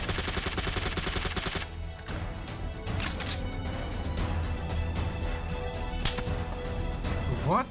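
Rapid bursts of gunfire in the mobile battle royale game PUBG Mobile form a dense, loud barrage, then continue as scattered shots and cracks.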